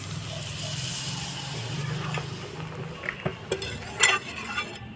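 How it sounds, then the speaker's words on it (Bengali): A spoon stirs boiled peas into spice masala in a pan, starting with a low rumble and then a series of distinct clinks and scrapes against the metal toward the end. "ভালো করে মটরটা মশলার সাথে মিশিয়ে নেব"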